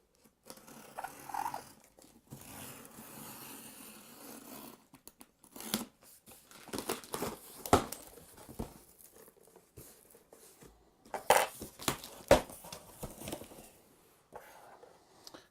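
A scalpel cutting and tearing through a cardboard box holding softbox lights, with intermittent scraping, slicing and crinkling sounds in quiet, close bursts separated by short pauses.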